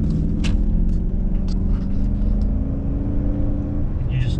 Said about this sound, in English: The engine's nice and tight, has no problem pulling this large of a car.